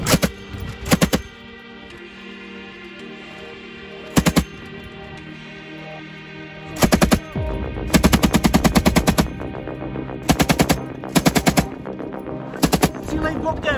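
Soldiers of the Czech army paratroopers firing rifles, sharp loud bursts of rapid shots in several separate clusters with quieter gaps between, a faint voice in the background.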